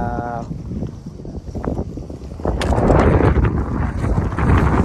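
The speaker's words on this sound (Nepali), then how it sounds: "यस्तै मजाको हावा सरर लागिरहेछ यार" Strong wind buffets and roars against the microphone on the road to Dolaghat, Nepal, gusting louder midway, with faint voices underneath.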